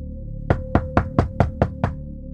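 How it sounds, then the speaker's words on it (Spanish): Seven sharp, evenly spaced knocks on a door, close and loud, over a steady low hum with no talking. "cuando alguien tocó a la puerta."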